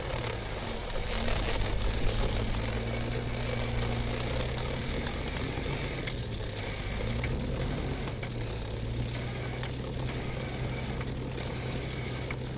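A track-equipped Jeep stuck in soft ground, its engine running steadily near and loud with throttle swells as the tracks spin, a continuous low drone throughout.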